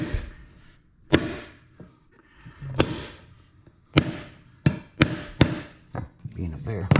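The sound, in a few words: hammering laminate flooring planks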